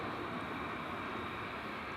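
An Alaska Airlines Boeing 737-800, arriving from Seattle as flight 372, sounds at DFW Airport as a steady, broadband jet engine roar. It is fairly loud and constant throughout, with no talk.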